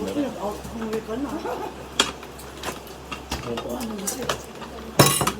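Plates, cutlery and glasses clink and clatter in scattered bursts as dishes are cleared during a home birthday meal, with people talking throughout.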